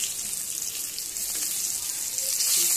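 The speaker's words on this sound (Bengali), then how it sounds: "এভাবে করে করে ভাজতে হবে।" Bitter gourd, potato and eggplant fry together in a pan with a continuous bright hiss of oil, close and even over a few seconds, with no talking.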